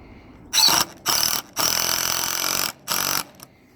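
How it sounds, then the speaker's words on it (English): A power drill whines in four short, loud bursts with brief pauses between them, drilling a pilot hole in wood close by, with no talking. "It's always better to drill a pilot hole if you can."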